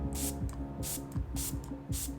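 MAC Fix Plus setting spray in Cherry Blossom scent misted onto a makeup brush in four short, close, hissy bursts at an even rhythm over a steady background hum.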